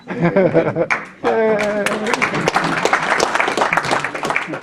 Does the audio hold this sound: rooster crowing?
no